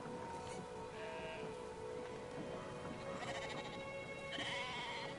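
Sheep bleat faintly in the game Brothers, several short wavering calls scattered over a noisy, steady background of game ambience and water, with no talking.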